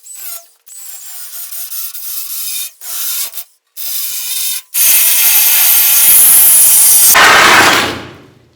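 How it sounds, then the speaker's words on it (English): Power tool cutting out the floor pan of a Jeep CJ5 body, bursts of harsh grinding with short pauses, then a long louder continuous cut that fades out, close and alone. "Cut the floor pan out of that one."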